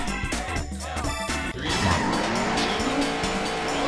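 A race car drifting in a racing video game, its engine revving hard while the tires squeal in a long, continuous slide, loud and close, with no voices.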